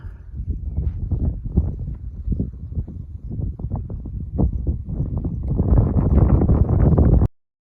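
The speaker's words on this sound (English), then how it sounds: "The wind is insane." Strong wind buffets the microphone on a dirt trail in Makoshika State Park, a loud, continuous rumbling roar with gusty bursts that grows harsher near the end before cutting off abruptly.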